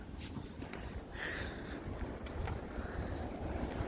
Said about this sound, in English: This is crazy wind.